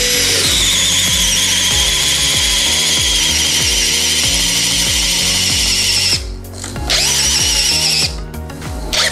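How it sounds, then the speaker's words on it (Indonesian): A DeWalt DCD805 hammer drill with a 40 mm spade bit runs loud and continuous, grinding as it bores into hardwood, with a brief dip in the motor before it surges again near the end. "coba tes menggunakan mata bor ini ya, mata bor kipas. Diameternya adalah 40 mili di kayu keras"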